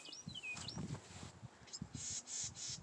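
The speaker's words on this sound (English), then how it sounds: "You can hear birds." Birds chirping during a deep snowy April blizzard, faint high tweets and short whistled calls in the distance over a quiet windy background.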